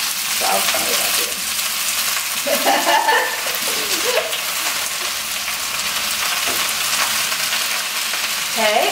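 Spinach sizzles and crackles in a hot pan as it cooks down, a steady bright frying hiss with occasional scraping stirs and brief clinks, close and continuous.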